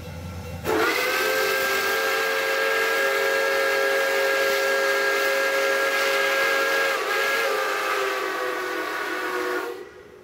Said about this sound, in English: Pier Marquette 1225 gives us one final blow of the whistle.